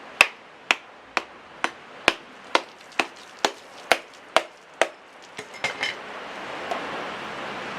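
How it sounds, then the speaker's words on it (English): A blade strikes a coconut's fibrous outer husk about a dozen times in a steady rhythm of sharp, close chops. The blows then turn into a few softer, quicker knocks and fade into quiet rustling. "he's removing the outer husk, which is this part here"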